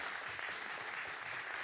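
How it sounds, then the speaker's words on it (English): An audience at a panel discussion during Davos gives a steady wash of applause, heard as dense, fairly faint clapping throughout. "Let's give them all a big round of applause."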